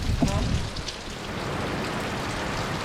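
Steady rain falls on a surface, a dense, even patter with scattered drops, continuous and moderately loud, with no voices.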